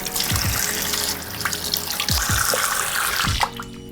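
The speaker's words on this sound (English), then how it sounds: "we're going to rinse it off with some warm water" Warm water runs steadily from a bathroom tap while a face is rinsed, a continuous close rush with irregular splashes and dribbles as hands scoop and spill water.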